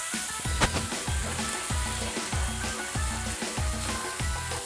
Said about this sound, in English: Mix this up just so we don't burn our hamburger.